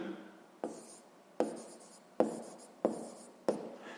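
Pen strokes on paper during a sixth-grade maths exercise, five distinct scratchy bursts arriving at a steady pace, close and clear against a quiet room.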